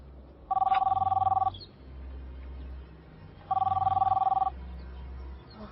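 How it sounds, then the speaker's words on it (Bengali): A telephone bell rings in two separate bursts of about a second each, clear and fairly loud, with a low hum in the pauses between them. "আমার একটা ফোন এসছে।"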